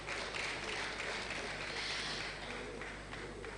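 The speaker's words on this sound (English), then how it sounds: "please a round of applause for him" Faint, distant applause from the audience at a University of Benin ICT Day event, a steady wash of clapping with a low hum beneath, slowly tapering off.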